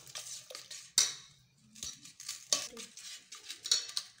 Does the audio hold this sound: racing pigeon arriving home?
no